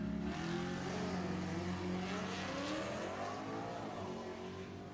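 A 1984 Mustang launches and roars down a drag strip during a bracket race, engine loud and steady as it rises through gears for several seconds, nearby and dominant.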